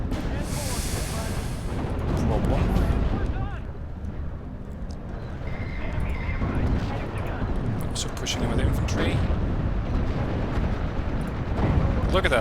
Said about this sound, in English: Artillery fire is now suppressing these tanks.